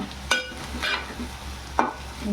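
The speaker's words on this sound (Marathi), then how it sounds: "हळद पण जरा दवळून घेते हळद पण अशी शिजवून घेतली ना" Turmeric stirred with onions in a frying pan: three quiet spoon scrapes spaced about a second apart over a soft, low sizzle, with no talking.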